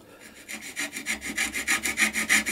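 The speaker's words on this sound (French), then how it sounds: "En utilisant une rondelle comme cale d'épaisseur et une scie jappe, je vais retirer le gros" A jab saw rasps through excess wood on a Fender Rhodes Mark 1 piano key in quick, regular back-and-forth strokes, close by and moderately quiet, growing slightly louder as it goes.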